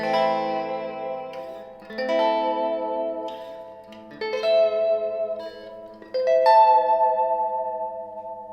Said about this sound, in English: Now that sounds great all the way up there with plenty of reverb